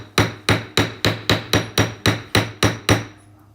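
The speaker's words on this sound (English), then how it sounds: "Doing my favorite side hammer to create those lines." Eleven crisp, close hammer taps in an even rhythm as a side hammer texture lines into a metal jewelry piece, ringing briefly after each blow before fading to quiet.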